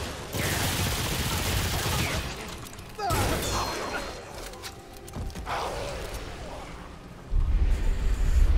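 Gunfire from a boss enemy shooting at the player in the video game Remnant II: dense, rapid volleys of shots that come in loud bursts, ease off and then return heavily near the end, with no speech over them.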